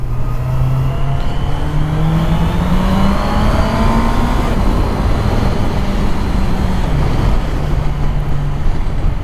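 A Honda CBR650R four-cylinder sports motorcycle with an electronic clutch runs steadily under load, its smooth engine tone holding and shifting pitch slightly over loud continuous wind and road noise, with no talking.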